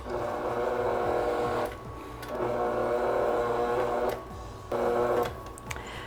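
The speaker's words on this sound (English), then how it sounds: "a few pulses on low, and then we can turn it up to high and whisk it until combined" An electric mixer whisks cream cheese frosting with powdered sugar on high speed, a steady motor whir that runs in three long bursts with brief pauses between them, close and fairly loud.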